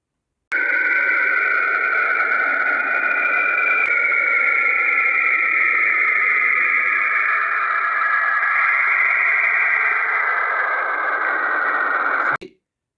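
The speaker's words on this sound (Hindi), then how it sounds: "सैटर्न या जोहल की आवाज सुनिए जी।" A space recording of Saturn: a sustained, eerie whistling drone with layered high tones and a hissy wash, holding steady for about twelve seconds before cutting off sharply.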